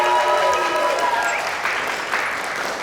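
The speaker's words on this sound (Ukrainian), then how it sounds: "Ваші оплески." A studio audience on a Ukrainian TV quiz show claps in a steady burst of applause that gradually fades, with some voices mixed in behind it.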